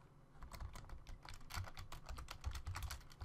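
A command is typed on a computer keyboard: quick, irregular bursts of clicky keystrokes, soft and close, with no voices.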